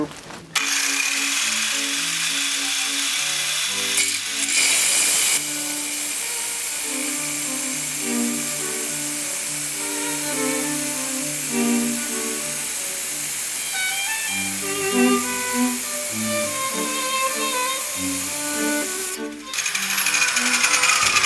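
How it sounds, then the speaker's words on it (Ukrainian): Vitals 1271TG mini saw cutting 10 mm granite, a close high-pitched grinding whine with a wavering motor pitch that rises and dips as the blade bites, running continuously with short bursts of harsher noise. "Так, попробую граніт зарізатись 10 мм."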